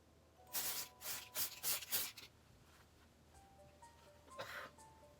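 An aerosol spray paint can hisses in several short bursts, close but fairly quiet, then one more brief burst after a pause, used while making a Coraline Halloween costume.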